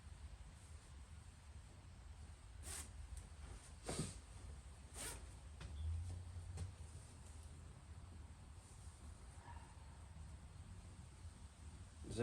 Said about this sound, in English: Zippers seem like good quality.